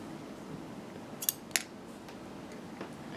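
Scissors snip through paper while a sewing pattern piece for Butterick 6322 is cut out. Two or three sharp, brief clicks stand out over a steady quiet room hiss, with no talking.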